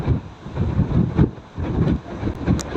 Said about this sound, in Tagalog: Lakas ng hangin dito sa dulo.